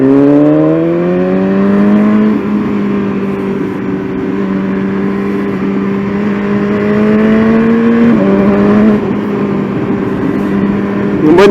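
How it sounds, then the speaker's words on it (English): A BMW S1000RR superbike engine pulls hard on throttle through the gears, its rising whine dropping briefly at each upshift before climbing again, loud and close over road and wind noise. "When you get into the power band and you're on the throttle, this thing does just pop the wheel up at every opportunity it gets."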